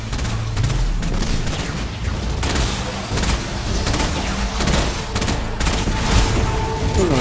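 Sustained rapid gunfire fills a Destiny 2 firefight as a Titan shoots at Vex constructs inside the Inverted Spire, loud and dense with booming shots throughout.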